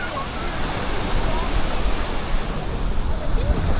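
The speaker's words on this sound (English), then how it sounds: "Hopefully that cuts some of that wind noise." Strong wind buffets the microphone on a Playacar beach, a loud steady roar of gusting air mixed with surf that fills the whole clip without letup.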